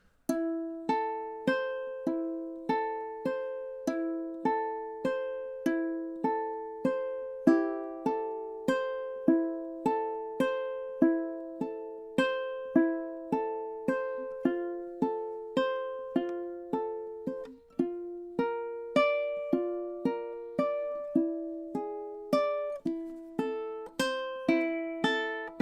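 Slow fingerstyle ukulele playing the opening four measures of Beethoven's Moonlight Sonata, with steady plucked arpeggio notes ringing one after another at a gentle, even pace and no voices.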